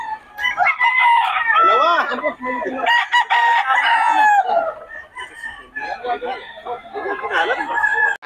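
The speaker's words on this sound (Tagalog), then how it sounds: "ang daming manok ngayon yan mga idol" Roosters crow and cluck loudly, close by, at a busy tiangge market in Bocaue. Several overlapping calls rise and fall while people nearby talk and shout.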